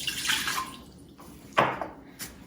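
A cup of water poured into an Instant Pot over a trivet, a soft splashing pour followed by a couple of brief drips and taps, fairly quiet and close.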